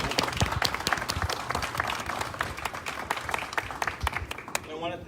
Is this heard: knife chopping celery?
no